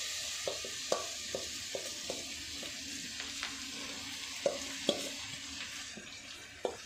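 Capsicum frying with half-fried onions in a pan for a cabbage egg curry: a steady sizzle runs throughout, with a scatter of sharp spatula scrapes and taps at irregular intervals, close and moderately loud.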